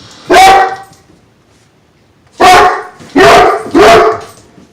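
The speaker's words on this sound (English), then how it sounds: "I have a dog that barks. And that dog is Thor, and he barks really fucking loud." Thor the dog barks loudly and close by: one sharp bark, a pause, then three quick barks in a row.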